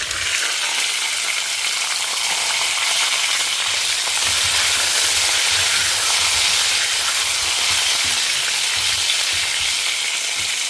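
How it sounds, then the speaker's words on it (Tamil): Lentils frying in coconut oil in a home kitchen, a loud, steady, close sizzle and hiss holding unbroken throughout, with faint low stirring movement underneath and no voices. "இது கொஞ்ச நேரம் வதங்கட்டும்."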